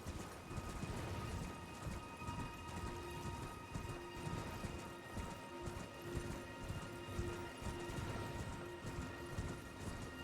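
Quiet, steady hoofbeats of a galloping horse in the video game Elden Ring patter rhythmically throughout, with a faint background hum.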